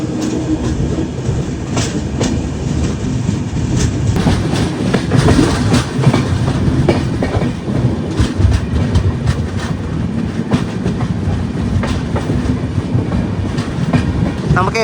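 The Barak Brahmaputra Express runs between Silchar and Dibrugarh in East Assam with a loud, steady rumble heard from on board, punctuated by regular clickety-clack of wheels over rail joints throughout.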